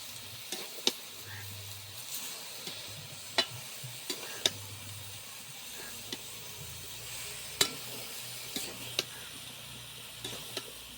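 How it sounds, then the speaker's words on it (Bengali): Ridge gourd pieces and moong dal frying in a pan with salt, a steady low sizzle broken by repeated sharp clicks and scrapes of stirring, close by, with no talking. "এখন নুন দিয়ে ভালোভাবে কষিয়ে নিয়ে ঢাকা দিয়ে দিতে হবে"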